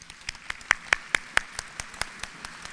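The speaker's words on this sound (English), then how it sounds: "Let's give them a round of applause." Sparse applause from a gala audience at a Hall of Fame induction, a handful of individual claps spaced out and fairly quiet, with several sharper claps standing out near the front.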